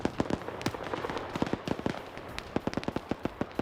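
Rapid bursts of small-arms gunfire in a military shooter match, sharp cracks in quick irregular volleys with a few single shots between, fairly close and loud over a constant battle background.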